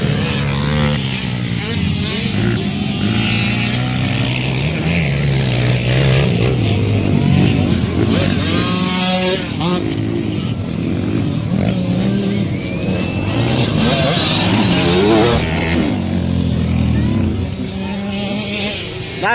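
Racing motorcycle engines roar and rev continuously at high pitch, rising and falling as bikes pass, with a commentator talking in Filipino over the noise throughout.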